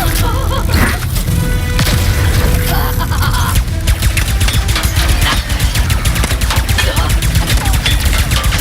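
Dense, rapid gunfire from a Ratchet & Clank: Rift Apart battle, loud bursts of shots and impacts piling over one another almost without pause, with a busy mix of explosions underneath.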